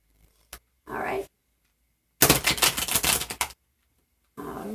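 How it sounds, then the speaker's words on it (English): Playing cards shuffled on a silver tray, a quick riffle of crisp flicking and clattering that lasts about two seconds between short bits of someone talking. "I want to give them one extra little shuffle for good luck"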